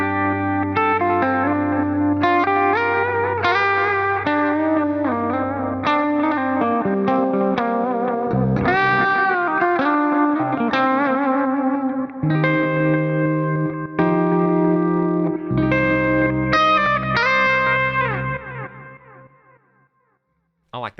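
Electric guitar through an Axe-Fx III with a saw-wave LFO modulation effect, sustained chords pulsing in steady rhythmic waves, loud and continuous before fading out near the end.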